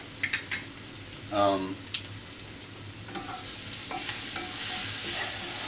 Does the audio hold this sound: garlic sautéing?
yes